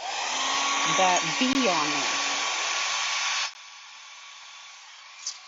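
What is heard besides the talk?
blow dryer drying a craft project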